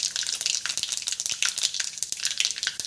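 Cumin and mustard seeds sizzle in about 50 grams of hot peanut oil for a Gujarati tempering, a close, dense crackle with rapid sharp pops throughout and no talking.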